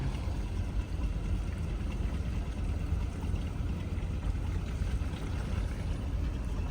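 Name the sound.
boats at river dock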